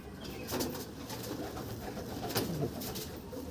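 Andhra pigeons, black birds of a show collection, coo softly in a low, throaty murmur, with a couple of louder calls rising near the start and again later over steady background noise.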